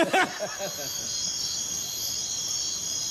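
A cricket chirping sound effect plays on a Filipino TV variety show: a thin, high, continuous trill held steadily throughout, with a brief burst of laughter at the very start.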